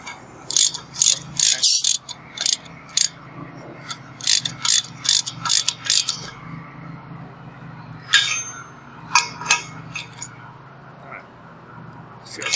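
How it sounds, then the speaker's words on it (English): Socket wrench with a 1 1/8 deep socket tightening a fitting on a small 1 lb disposable propane tank, giving close, crisp bursts of rapid ratchet clicks separated by brief pauses. "I'm using a 1 1/8 socket or deep socket"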